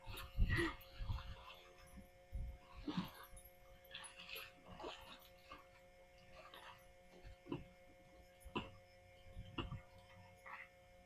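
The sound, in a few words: dog whimpering while playing with a pool rod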